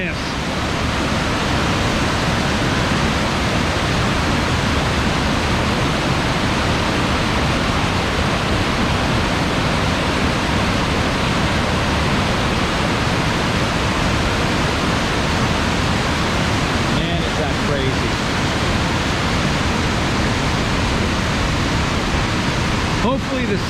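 Waterfall and rushing creek water at Lanterman's Mill in Mill Creek Park, Youngstown, Ohio, on a rainy day, a loud, dense and steady roar filling the whole stretch without pause.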